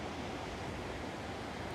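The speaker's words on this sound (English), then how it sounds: "There was the constant sound of rushing water from the streams and small waterfalls" Rushing water from rainforest streams and small waterfalls, a dense, constant broadband wash with no breaks, steady and moderately faint, with no voices.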